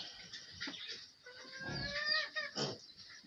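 Several local free-range chickens on a pig farm in Africa cluck and squawk close by, with a few drawn-out calls rising over a quiet outdoor background.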